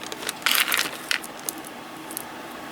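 Loose glass chip beads are handled and stirred, giving bright clicking and rattling bursts, loudest near the start, then scattered lighter clinks against a quiet background.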